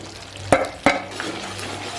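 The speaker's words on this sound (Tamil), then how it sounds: "ஜீனி எல்லாம் கரைஞ்சி கொதி வந்துகிட்டு இருக்குது பாருங்கள்" Sugar syrup for ginger candy boils in a pan, a soft bubbling sizzle broken by two sharp utensil knocks against the pot close by.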